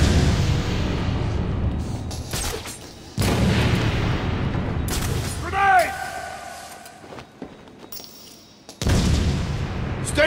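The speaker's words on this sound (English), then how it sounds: "Grenade!" Booming explosions and bursts from a video game firefight ring out loud and close, with a falling, warbling tone after one blast and scattered voice lines mixed in.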